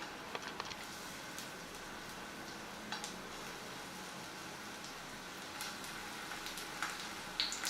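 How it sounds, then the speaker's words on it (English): Paneer pieces frying in hot oil in a pan, a steady soft sizzle with scattered crackles and pops throughout, no talking. "Fry them all."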